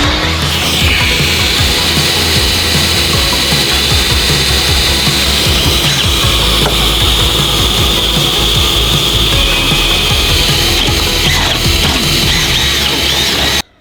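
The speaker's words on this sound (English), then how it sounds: "we have to drill mounting holes into the aluminum beam back here so that we can actually mount the main hoop" A power drill bores mounting holes into an aluminum beam inside a Porsche build with a roll cage, producing a loud continuous high whine over dense grinding rattle and chatter that stops abruptly at the end.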